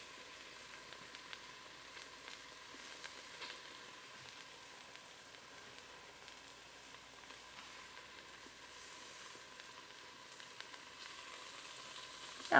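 Scallops sear in a Ninja Foodi, making a faint, even, continuous sizzle with a soft, rain-like hiss and no talk.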